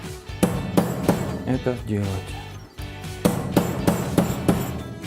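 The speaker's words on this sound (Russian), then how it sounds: "Для этого используется у нас вот такой металлический шар и резиновый молоток." Rubber mallet striking metal earrings shaped over a metal ball, a series of sharp dull taps in bursts, with a person speaking between and over the blows.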